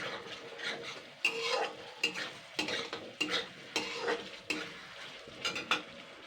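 A spice masala stirred in a pan after a little water goes in, with regular scraping and clinking strokes of a spoon against metal over a low sizzle, close and rhythmic, no talk.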